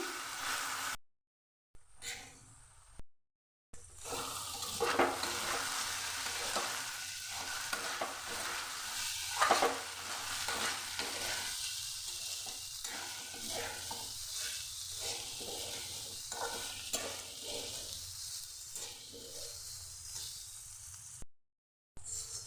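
Boiled potato pieces fried with salt and turmeric in a pan over a medium flame, giving a steady sizzle with repeated scraping stir strokes throughout, and a few brief silent gaps.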